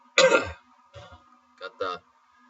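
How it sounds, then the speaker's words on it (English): A person coughs several times: one harsh, heavy cough, then a short quiet one, then two quick coughs close to the mic, with brief silences between. "Had a bit of a cough recently"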